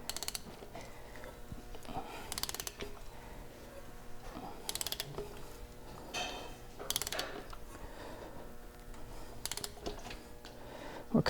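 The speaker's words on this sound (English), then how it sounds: "So we're going to go 2 revolutions around on the crank." A ratchet wrench turns the crankshaft of a Toyota 4.7 engine through its revolutions, giving soft clicking mechanical bursts at irregular intervals over a quiet workshop background.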